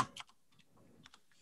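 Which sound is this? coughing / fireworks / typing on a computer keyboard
typing on a computer keyboard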